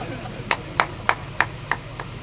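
Six sharp, evenly spaced claps spread over about two seconds at a Rawat community gathering in Dabra, each one crisp and fairly close, with a quiet hum underneath.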